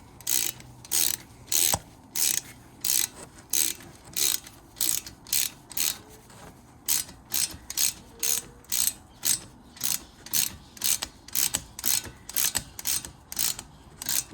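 Ratcheting wrench working a front brake caliper bolt on a Mini Cooper R50, a long run of quick, evenly paced clicking bursts, close and steady, with no talk.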